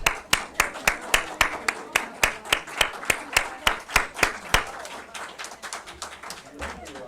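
An audience at a Unitarian Universalist annual meeting claps in a rhythmic, evenly spaced beat, loud and close at first and then thinning into looser scattered applause.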